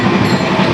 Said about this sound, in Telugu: ట్రైన్ అయితే మామూలు స్పీడ్లో అయితే పోతలేదు